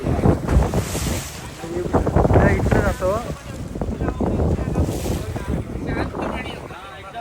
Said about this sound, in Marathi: हवा खूप आहे